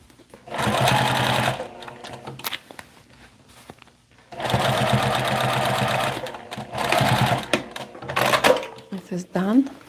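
A sewing machine stitches fabric in two long loud bursts separated by a pause, followed by shorter runs and a few clicks, close by.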